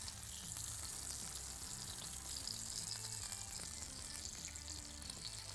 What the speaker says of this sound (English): And just cook that egg out nice and slowly now.